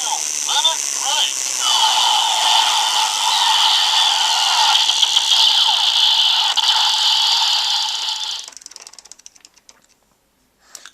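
Meteor Driver toy transformation belt sounding its limit break, a loud steady electronic whirring tone with bright synthetic effects that ends abruptly, followed by a few fading clicks and rattles.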